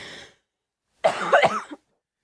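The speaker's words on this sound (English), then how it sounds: "You have so many coughs." A single harsh cough bursts out after a brief silence, rough and close to the microphone.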